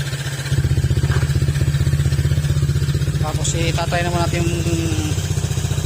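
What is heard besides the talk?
loud motorcycle exhaust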